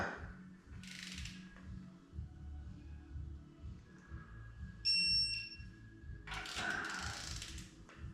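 A torque wrench tightening engine bolts on a Ford Fiesta ST 2.0 Duratec engine under rebuild gives repeated close mechanical ratcheting clicks in a steady rhythm, with a few brief sharper clicks and a short high tone.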